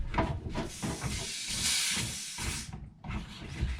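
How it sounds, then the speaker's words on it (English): A pump-up garden sprayer releases a steady, close hiss of liquid spray during a boat restoration, running in a long continuous burst that breaks off briefly and then starts again. "Got my little trusty pump-up sprayer here."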